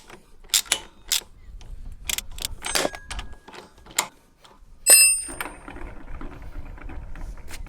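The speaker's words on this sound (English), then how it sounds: "Then put your nut back here and tighten it down." Metal clinks and brief ratcheting clicks from tightening a nut on a KUGOO M4 PRO electric scooter shock absorber, close and intermittent, with a few sharp taps and a soft rattling tail, no talk.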